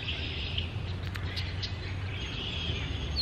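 Faint bird chirps and tweets come from a distance over a steady outdoor hiss and low background rumble.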